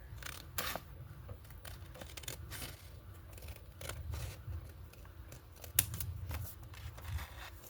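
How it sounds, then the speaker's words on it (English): Scissors snip through paper while trimming small window envelopes, a quiet close-up series of irregular crisp cuts and rustles with a few sharper snaps between them. "We're going to cut the top off here."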